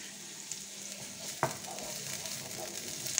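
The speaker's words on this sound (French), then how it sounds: "Alors, on remue." Courgettes being stirred in a frying pan with salt, pepper and spices, a steady soft sizzle throughout with one sharp scrape of the utensil midway.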